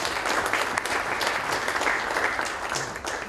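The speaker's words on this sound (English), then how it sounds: "I would especially like to applaud Dr. Tarneja on completing 50 years of association with AIMA" An audience at a management foundation day ceremony gives continuous, fairly loud applause, a dense roomful of clapping hands that holds steady throughout.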